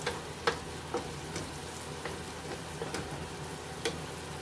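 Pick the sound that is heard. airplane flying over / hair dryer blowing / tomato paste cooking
tomato paste cooking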